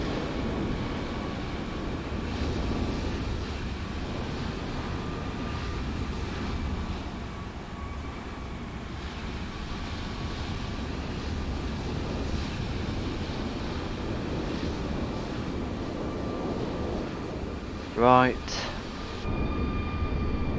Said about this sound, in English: We'll try our best to ignore those sounds from that plane that's just landed.